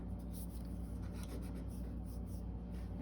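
Oil pastel stroking across paper in soft, continuous scratchy rubbing strokes, close and quiet, with short repeated strokes throughout.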